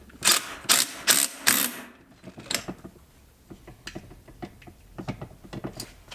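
A ratchet wrench tightens a part on a Puch Magnum moped during a CDI install, opening with four loud, rapid bursts of clicking, then lighter scattered ratchet clicks and taps at close range.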